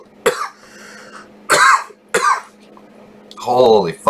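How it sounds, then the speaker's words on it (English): A man coughs close to the microphone, several harsh, separate coughs spaced apart, ending in a rougher throaty bout. "Holy fuck, I hate coughing."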